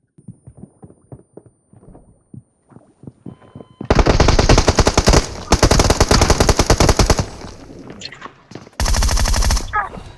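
Gunfire in the mobile battle royale game BGMI: a few scattered single shots, then long, loud bursts of rapid automatic fire close up, a pause, and another sustained burst.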